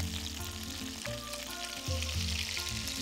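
Plaice and tomatoes cook in a covered pan with coriander, a bubbling, sizzling simmer that stays steady and close beneath a low droning hum, with no one speaking.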